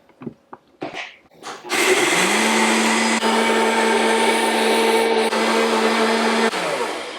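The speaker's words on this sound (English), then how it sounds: "we need to turn the blender on first to make it into flour." After a few clunks and taps, a blender roars to life grinding oats into flour, loud and steady for about five seconds before winding down.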